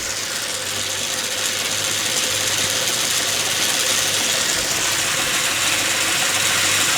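Small Stuart Turner steam engine fired by a Bix gas burner at low pressure, driving pitched plywood helicopter blades from a laser-cut kit; a steady, loud mechanical chatter and whir with a constant hiss, running evenly without talk.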